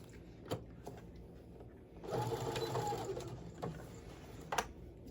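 A sewing machine runs in one steady burst of stitching through a cosmetic pouch with lining, with brief clicks and handling noises before and after.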